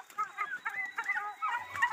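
Hybrid chickens cluck softly and repeatedly up close, a run of short, busy clucks and murmurs with no one talking over them.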